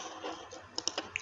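Keyboard shortcut keys, such as Ctrl+D, are pressed while someone works in graphic design software. A short cluster of four quiet, crisp clicks sounds over a soft background hiss.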